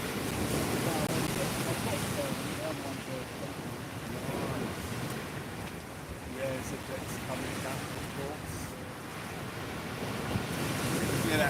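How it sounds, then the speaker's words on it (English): Strong wind buffets the microphone while waves wash around a boat on a cold sea, a steady broadband roar with people talking faintly underneath. "wind's ruthless"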